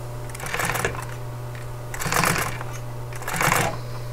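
A sewing machine runs a lock stitch through upholstery fabric, throws made from recycled saris, in three short whirring bursts over a steady low hum, close and fairly loud.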